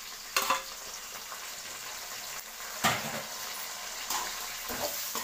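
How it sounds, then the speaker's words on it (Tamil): Capsicum and onion sauté in a pan with a steady, close sizzle, broken by a few sharp scraping stirs of a spoon against the metal. "கேப்சிகம் சேர்த்துட்டு கொஞ்சம் வதக்கிக்கலாம்."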